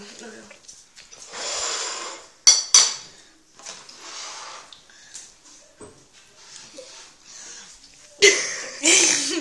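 A knife cuts on a plate with cutlery in a kitchen, with a few sharp metallic clinks and scrapes amid people talking.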